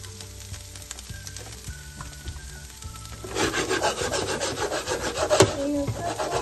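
Whole sweet peppers and onions fry in oil in a pan, a soft rubbing and scraping at first, then a louder, steady crackling sizzle from about halfway, with a sharp clatter near the end and no talk.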